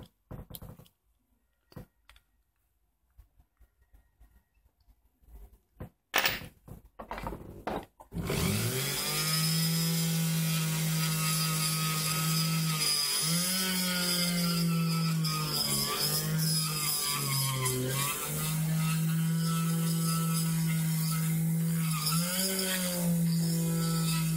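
A straight cylindrical router bit milling moose antler in a wood and antler workshop: a few clicks and handling knocks, then a loud steady high whine of the spinning tool, its pitch dipping as it bites the material.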